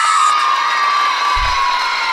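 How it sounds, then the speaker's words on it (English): A crowd of children screams and cheers loudly and without a break, a dense wash of shrill voices with a soft low thump partway through. "The children are screaming for me."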